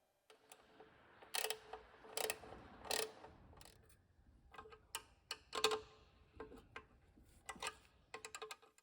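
Clicks and ratcheting metallic ticks from a wrench loosening two bolts on the airbox of a Royal Enfield Bullet 500 under restoration, irregular bursts of close, sharp clicks with short pauses between.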